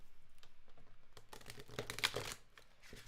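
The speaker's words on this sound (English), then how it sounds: "All right, one more shuffle." Tarot cards being shuffled during a live reading, a run of quick papery riffles and crinkly flicks that builds to a denser burst midway, close and fairly quiet with no talk.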